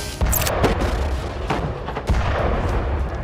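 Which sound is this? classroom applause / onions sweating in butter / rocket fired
rocket fired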